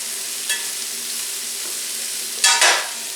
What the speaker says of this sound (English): I'm going to let these cook just until the mushrooms turn brown at the edge